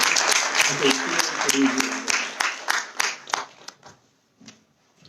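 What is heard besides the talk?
webinar audience applause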